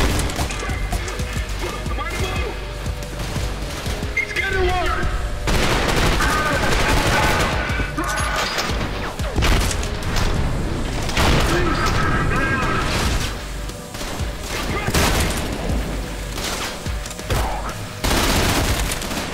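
Grenade blasts and gunfire from the shooter game Trepang 2, with booming explosions and bursts of rapid shots packed densely over a steady battle din, while a voice talks over the action throughout.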